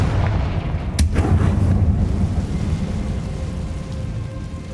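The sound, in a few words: Confringo blasting spell in a video game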